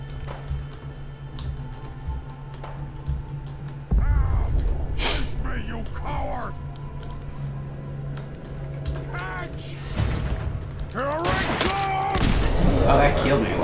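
Gunfire and a grenade blast in Fallout 4: sharp shots and a loud burst ring out over a low game hum, with a person talking and gasping throughout.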